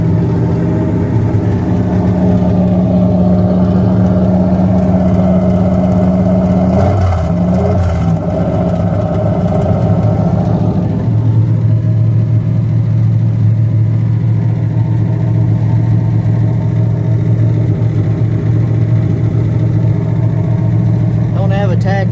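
An old truck engine running at close range, holding a steady idle with a brief blip of revs partway through, a loud continuous rumble throughout while someone talks over it.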